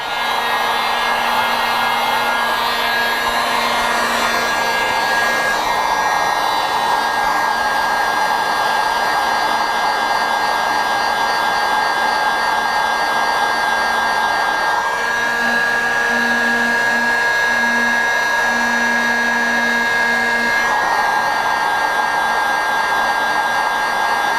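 Hot air rework tool blowing steadily and loud for the whole stretch while heating a Texas Instruments chip on a CDJ-2000 circuit board, a constant broadband roar with a faint tonal whine.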